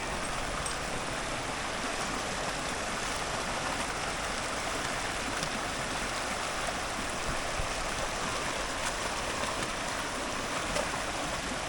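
A glacier-fed mountain creek rushes steadily and loudly close by, a dense, unbroken wash of flowing water with no pauses.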